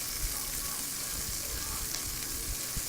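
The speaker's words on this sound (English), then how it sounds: "Saute them up, let them cook down with the garlic and pepper and celery" Red onion, green pepper, celery and garlic sauté in a hot pan, giving a steady, close sizzle with faint crackles and occasional stirring scrapes, with no voices.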